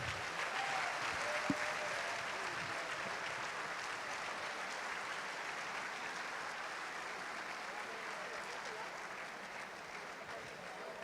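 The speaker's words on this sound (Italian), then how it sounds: "un doppio applauso strameritato per le ragazze della Reyer Under 14" A crowd at a basketball event applauds a girls' under-14 team steadily and continuously, a dense, even wash of clapping that holds throughout.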